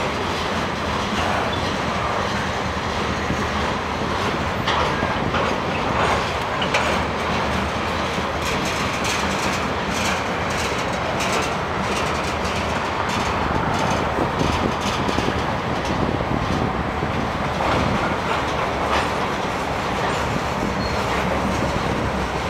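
A BNSF freight train of boxcars rolls steadily past in Washington, a continuous loud rumble of rail noise with clattering wheels and occasional faint squeals, no voices.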